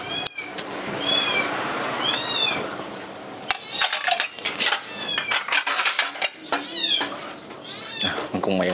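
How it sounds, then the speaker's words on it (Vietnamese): Cat meowing repeatedly in a home kitchen during meal preparation, several rising meows spread across the stretch, moderately close, over a steady background hiss with clinks of dishes and a voice talking. "Con mèo kêu."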